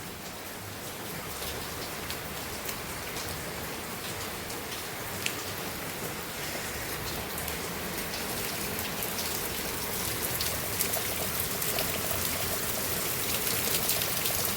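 Heavy morning rain falls over a village, a dense, steady hiss of drops on surfaces with trickling water, near and continuous, growing slightly louder toward the end.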